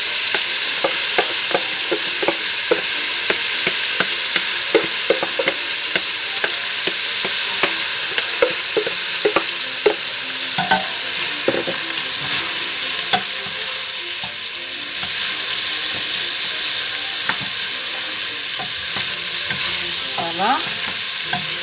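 Rinsed split peas and onions sizzle in a pot while being stirred, a loud steady frying hiss with frequent clicks and scrapes of the spoon throughout, no speech.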